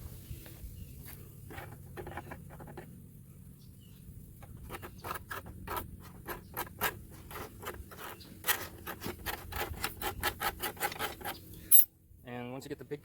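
A blade is raked at a right angle along the edge of a plastic chicken feeder to strip burrs, giving a series of quiet, close scraping strokes that grow quicker and denser toward the end.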